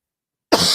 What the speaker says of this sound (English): That cough's just been lingering, ain't it?